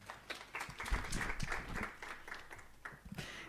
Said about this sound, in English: Let's clap our hands again for Mr. Moyle